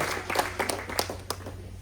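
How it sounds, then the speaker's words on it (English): A crowd at a winery ribbon-cutting ceremony in Maryland claps steadily, a moderate round of applause with a few louder individual claps standing out, continuing throughout. "Let's give that a round of applause"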